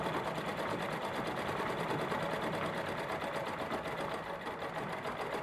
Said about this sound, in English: this Minerva central bobbin is my favourite machine for doing free motion embroidery